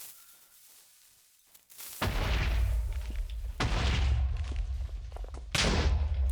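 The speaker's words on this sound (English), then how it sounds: "it makes separate explosions for each one so they don't damage the blocks mined by each other." TNT blocks detonate in a Minecraft-style block game, a quiet lull giving way to a series of deep, booming blasts that overlap in rapid bursts, loud and close, with fresh explosions kicking in every second or so.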